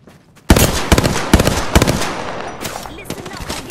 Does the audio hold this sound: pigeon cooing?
no